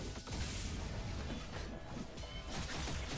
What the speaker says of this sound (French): la bombe, deuxième bombe qui explose